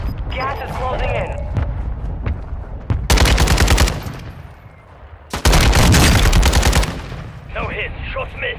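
Two loud, dense bursts of automatic gunfire in Call of Duty Warzone 2, each lasting a couple of seconds and separated by quieter game ambience, with a voice speaking in between.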